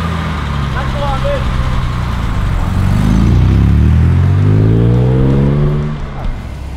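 A Lotus Elan S engine rumbles steadily nearby, its pitch rising as it revs and pulls away, then fading slightly at the end.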